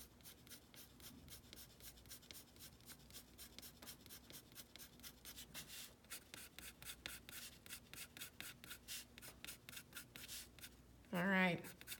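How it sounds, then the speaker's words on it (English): A pen scratches out a tree on paper for a snow globe landscape, making quiet, steady back-and-forth strokes that quicken into a dense run of short, rhythmic hatching lines, ending with a brief, louder scrape. "So let's draw our last one."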